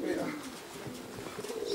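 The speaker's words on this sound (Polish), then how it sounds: "Parę gołębi tutaj siedzi na dachu" Pigeons at a racing loft with several birds on the roof, cooing softly and steadily in the near background through the short outdoor stretch, with faint chirps mixed in and some voice-like sound.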